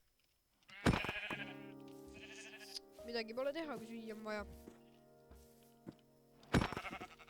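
Sheep bleat in a video game, two sharp loud cries near the start and end with synthesized game sounds and a voice speaking between them.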